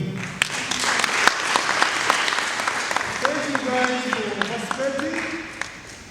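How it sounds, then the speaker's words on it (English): Audience applause at a university research proposal competition award, a dense, continuous clapping with sharp individual claps standing out and voices murmuring beneath, easing slightly toward the end. "A lot of applause for them."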